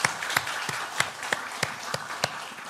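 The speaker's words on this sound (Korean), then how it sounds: "우리 박수로 환영하겠습니다." A church congregation gives a short round of applause to welcome a newcomer during a Sunday service, with scattered, soft claps at a moderate distance, rather sparse and quiet, and no talk over them.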